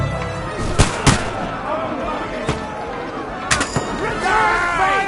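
Battle gunfire in Kingdom Come Deliverance 2: a few sharp, loud bursts of shots and booms ring out close by amid a noisy fight, with shouting voices over the din.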